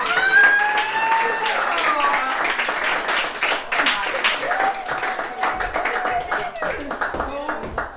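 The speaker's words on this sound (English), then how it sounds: "Give yourselves a round of applause" Audience clapping in a music room at a museum and gardens after a live performance, steady and fairly loud, with voices talking and cheering over it throughout.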